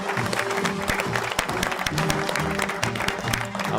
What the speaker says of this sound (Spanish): Fuerte ese aplauso para Andrea